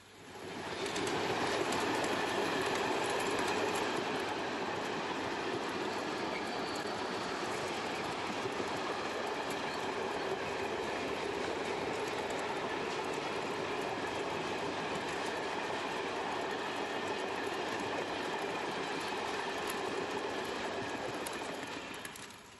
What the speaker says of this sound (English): A couple of the night's freight trains appears out of the mist.